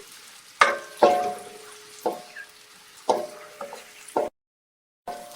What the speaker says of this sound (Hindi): तेल गर्म हो चुका है, प्याज शामिल कर लेती हूँ।